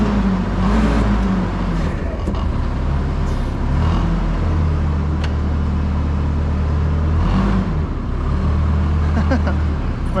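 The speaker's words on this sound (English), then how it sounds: "Just need to rev her up a little." Forklift engine revving loudly nearby with a low, rumbling drone that swells and eases a couple of times over a steady idle.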